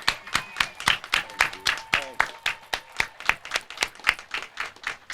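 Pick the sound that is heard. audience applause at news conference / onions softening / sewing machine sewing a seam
audience applause at news conference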